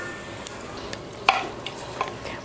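Whole cardamom, cloves, star anise and cinnamon crackle briefly in hot oil, a soft sizzle with a few sharp pops and a spoon scraping the pan.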